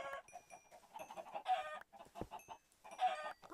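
Chickens cluck in the video game Minecraft, with short repeated bursts of clucking and squawks at a fairly low level and brief pauses between groups.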